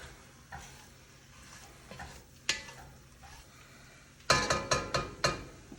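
Hungarian goulash ingredients get stirred in a pot. Faint sizzling runs under scattered utensil scrapes, then a run of sharp, loud metallic knocks and clatters near the end, close, with no talk.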